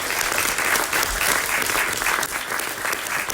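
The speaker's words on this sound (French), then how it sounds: "vous pouvez l'applaudir" Cinema audience at the Cinémathèque in Paris applauding a guest after a screening of Jacques Tati's Mon Oncle, a loud, dense and sustained round of clapping that fills the whole stretch.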